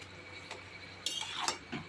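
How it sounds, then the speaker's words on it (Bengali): A spoon stirs a pot of curry with dal fritters. A few light metallic clinks and scrapes come close and fairly clear against a quiet kitchen background. "সবগুলো এখন আমি কিছুক্ষণ নেড়ে এগুলো একটু ফুটতে দেবো"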